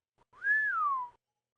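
A person gives one clear whistle, alone and close. It rises, holds briefly, then glides downward in a smooth falling note lasting under a second.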